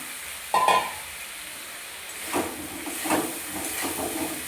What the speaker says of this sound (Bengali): এর মধ্যে আমি ভাজা আলুগুলো ঢেলে দেবো।